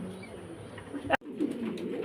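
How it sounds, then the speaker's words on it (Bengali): Pigeons coo softly at a pigeon seller's, low murmuring calls repeating under a faint background, broken by a brief sharp click midway. "শুধু কবুতরই দেখাবো"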